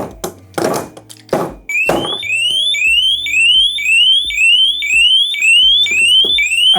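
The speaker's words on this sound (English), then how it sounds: "That's a properly high-pitched squeal" A few loud whacks strike a smart bike lock, then its 100-decibel tamper alarm kicks in: a piercing, high-pitched squeal that sweeps upward over and over in a fast repeating cycle, loud and close, with a few more knocks under it.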